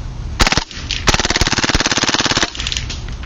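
KWA MP7 airsoft gun firing on full auto: a rapid, even string of loud close shots lasting over a second, after a couple of quick single bursts, then stopping abruptly.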